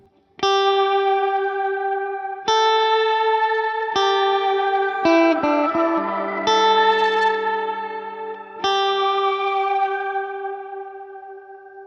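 Several plucked guitar notes, each washed in a bright, high shimmering reverb from a Strymon Nightsky pedal, pitch-shifted up an octave, that swells and lingers between strikes before slowly fading.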